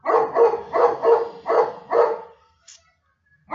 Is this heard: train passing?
no